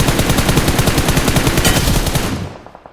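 Rapid automatic gunfire in an online shooter game aimed at an enemy water vehicle, a loud continuous burst of tightly spaced shots that tapers off into a few scattered pops at the end.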